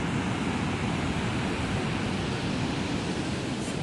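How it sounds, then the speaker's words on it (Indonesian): Waves and surf at Jala Sutra beach, a loud continuous broadband roar with wind buffeting the microphone throughout. "kita sudah sampai di Pantai Jala Sutra"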